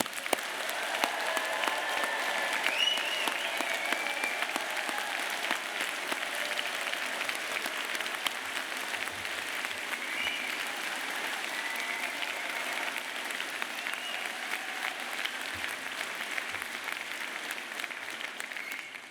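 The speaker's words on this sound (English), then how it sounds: "let's start today's ceremony by giving all our amazing graduates a huge round of applause" A large audience at an Open University degree ceremony in Newport applauds graduates in a dense, even roar of clapping that holds steady for the whole stretch, with no talk over it.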